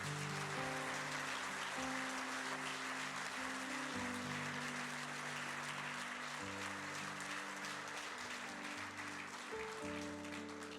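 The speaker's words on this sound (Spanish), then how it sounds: "Dele un aplauso al Señor" A church congregation claps in sustained, dense applause that fills the space evenly, with a musical keyboard or organ chords holding underneath the whole time.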